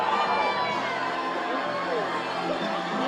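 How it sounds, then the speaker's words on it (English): A crowd at the Jason Kelce Beach Bash, an Eagles Autism Foundation fundraiser on the beach, keeps up a dense wash of cheering and chatter throughout. "I feel like they're cheering for me"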